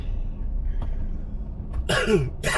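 A man coughs twice in quick bursts, close and loud, after a quiet stretch of low outdoor rumble near a highway construction site.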